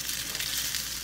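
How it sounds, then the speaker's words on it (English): Ramen patties frying in oil in a large skillet, giving off a steady, dense sizzle throughout. "Enlarge skillet, heat oil, cook ramen patties in oil 2 to 3 minutes on each side."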